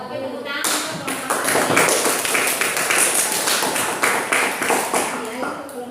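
A classroom group gives applause for a presentation team, steady dense clapping from many hands starting abruptly and continuing throughout at a fairly loud, close level.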